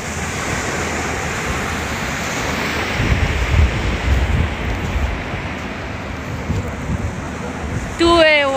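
Sea waves wash onto a beach at Sanya in a continuous loud surf roar, with wind buffeting the microphone and a brief louder burst near the end.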